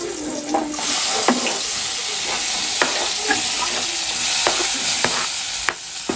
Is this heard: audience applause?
no